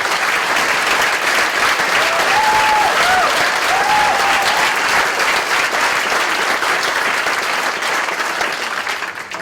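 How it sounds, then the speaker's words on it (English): Loud, sustained applause from a packed audience, dense clapping at full strength for most of the stretch and tapering slightly at the end, with a faint whistle or cheer briefly audible early on. "a big round of applause for John"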